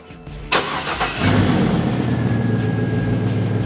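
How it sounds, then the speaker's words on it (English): A car engine cranks and fires up, settling into a steady idle after a brief starter whir, close and fairly loud, during a voltage drop test in a workshop. "Go ahead and start the vehicle."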